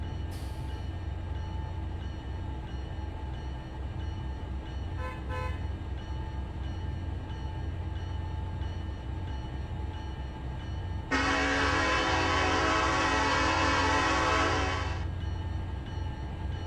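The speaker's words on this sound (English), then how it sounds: "The train's getting close." Simulated train in the Trainz railroad game sounds a long steady horn blast over a constant low engine and rail rumble, with a brief bell-like ring earlier; no voices.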